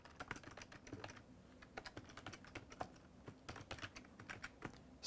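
Steady, irregular clacking of typing on a computer keyboard while contact details and an address are entered, close and fairly quiet with no talking.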